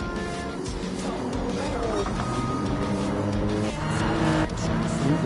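Racing cars slide through a bend at Brands Hatch in a GT racing video game, engines roaring continuously with tyres squealing and skidding throughout, loud and close.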